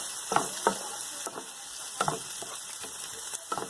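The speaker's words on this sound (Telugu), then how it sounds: "క్యారెట్ ముక్కలు, క్యాప్సికమ్ ముక్కలు అన్నీ వేసి మనం 5 నిమిషాల పాటు ఫ్రై చేసుకోవాలి" Ginger, garlic, spring onion, carrot and capsicum pieces fry in a pan with a steady sizzle, broken by a few sharp stirring scrapes near the start and again later.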